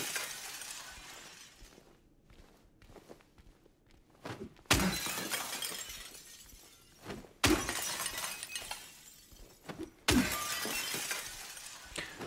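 Glass shatters three times in the Silent Hill 2 video game, each a sudden loud crash followed by a bright, ringing spray of falling shards, separated by quieter stretches of ambient game noise.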